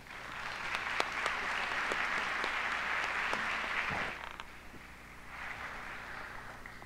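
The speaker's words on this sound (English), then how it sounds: "Maybe you could give her a round of applause." A conference audience at Columbia University applauds in a steady, fairly faint wash of clapping that thins out and fades partway through, then picks up again more quietly.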